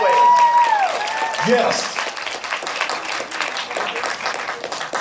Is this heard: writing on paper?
no